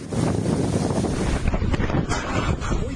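Strong typhoon wind in Sabtang, Batanes, roars and buffets the microphone, with a constant heavy rush that could include driving rain.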